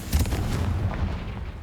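The Confringo blasting spell in the Hogwarts Legacy video game goes off as a single deep, close explosion with a heavy low boom that quickly fades.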